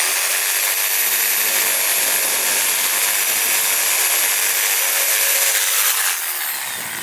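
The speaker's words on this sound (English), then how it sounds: "So I'll just take the jigsaw like this." A jigsaw cuts the plastic edge of a Ram 1500 front splitter, a loud, close, continuous buzzing rasp that holds steady for several seconds before slowing and trailing off at the end.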